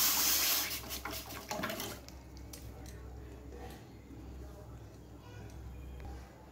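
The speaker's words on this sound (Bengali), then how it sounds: "এবার এটার মধ্যে আমি 1 কাপের মতন একটু জল দিয়ে দেবো।" About a cup of water poured into a pot on a kitchen stove, a short splashing rush that quickly fades into a low steady background while someone talks.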